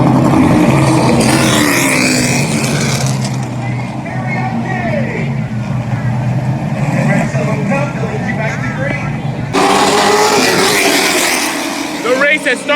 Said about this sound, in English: The race has started back up